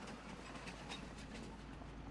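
Freight train pulling away in Farming Simulator 25, a steady low rumble with soft rhythmic wheel clatter at constant loudness and no talk.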